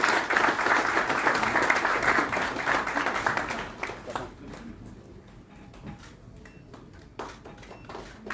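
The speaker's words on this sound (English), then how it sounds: "Ladies and gentlemen, huge round of applause." Audience applause at a CII logistics conference in Goa: a dense, sustained burst of clapping fills the room for about four seconds, then thins into scattered claps and faint murmuring.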